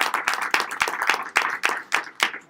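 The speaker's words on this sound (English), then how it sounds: "Could we get a round of applause for Rhonda coming out?" An audience at a real estate auction seminar claps for a guest coming out, with a bursty, uneven patter of hands rising and dipping in waves.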